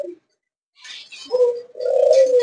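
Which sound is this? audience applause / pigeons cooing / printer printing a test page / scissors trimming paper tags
pigeons cooing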